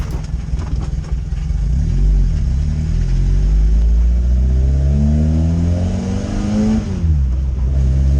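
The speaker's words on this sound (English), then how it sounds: "So this is my very first test drive, and I'm also taking the car to get the exhaust at the same time." A Fiat X, out on its first test drive before getting a custom exhaust and with a clutch that engages very close to the floor, drives with a loud mid-pitched engine that revs up through the gears and briefly drops back. Nobody speaks.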